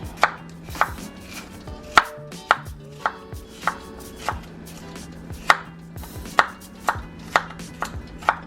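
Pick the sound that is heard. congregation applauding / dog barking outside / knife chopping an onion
knife chopping an onion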